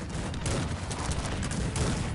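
Cannon and musket fire in the strategy game Cossacks 3 during a Turkey versus Algeria battle, a dense continuous barrage of overlapping shots and booms with no gaps, loud throughout.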